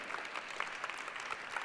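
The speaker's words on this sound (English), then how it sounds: "Big applause" A short burst of applause at a team pitch event, many hands clapping together in an even crackle at moderate distance.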